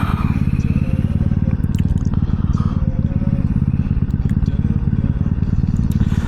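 A Honda Ruckus moped engine putters steadily up close while riding, with a rattly, buzzing drone and some clattering, with a voice briefly heard underneath.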